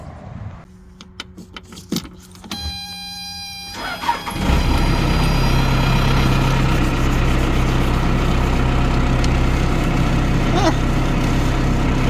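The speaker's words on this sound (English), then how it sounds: "She's running. 4BT Cummins." A truck with a 4BT Cummins diesel, set up for hauling a backhoe on a trailer, cranks and fires after a few quiet cabin clicks, then settles into a loud, steady, rumbling idle close by.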